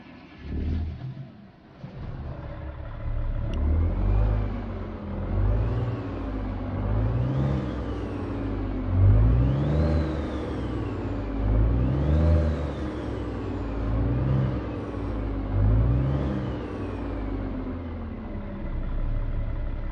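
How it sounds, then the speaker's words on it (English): A large Big Cam Cummins diesel truck engine in American Truck Simulator, heard from inside the cab, cranks and starts, then settles into a deep rumbling idle with a few rising and falling revs. "We're going to fire it on up and get you guys the inside sounds"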